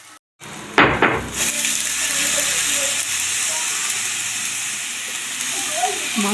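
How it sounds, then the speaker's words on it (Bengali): Meat hits hot oil with ginger, garlic and spices for a biryani, setting off a loud sudden sizzle that settles into steady frying hiss with occasional clinks of a pan, no talking. "মাংসগুলো দিয়েও কষিয়ে নেব মশলার সঙ্গে"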